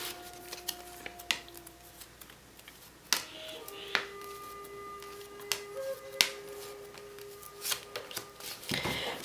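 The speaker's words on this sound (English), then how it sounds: "we are going to pull the 9th card down and from each of the decks" Cards are pulled one by one from several oracle decks, making soft, close snaps and flicks scattered among quiet rustling, with a few faint ringing tones in the background and no talking.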